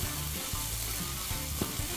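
Onions sizzling in a skillet, frying to pick up color, with a dense, even crackle and occasional soft stirring knocks, close by and steady with no voices.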